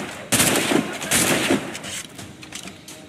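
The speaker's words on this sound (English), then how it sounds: "Fire! Fire! They're shooting back!" Gunfire in Assassin's Creed Rogue during a city battle, loud bursts of rapid musket and gun shots in two main volleys, then fading into scattered quieter shots.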